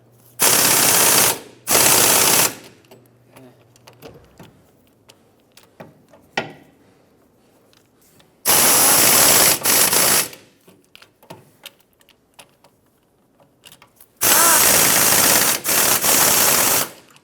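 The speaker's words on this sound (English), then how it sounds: "I had my air tool turned all the way down" Air impact wrench tightening rear hub bolts on a Mazda 6, three loud sustained rattling bursts of about two seconds each, separated by quieter clinks and handling noises.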